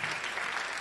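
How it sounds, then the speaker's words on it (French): Audience applause in a church, a dense, steady burst of clapping from many hands, loud and close, filling the whole brief moment with no voices over it. "applaudissez pas trop fort, elle écoute"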